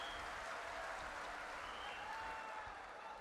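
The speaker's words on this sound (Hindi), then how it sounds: "दादा को ताली बजाओ" Audience applause at a Balaji divine darbar gathering, steady dense clapping from a crowd filling the whole stretch at even loudness, with no distinct voices on top.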